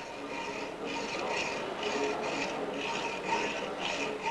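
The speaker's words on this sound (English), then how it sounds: "A hacksaw consists of a frame which holds a thin blade under tension." A hacksaw rasps through metal in steady, rhythmic forward strokes, close and moderately loud, repeating several times with no talking.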